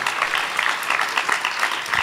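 Audience applause: a steady, dense wash of clapping hands at moderate loudness, continuing evenly for about two seconds with no voices on top.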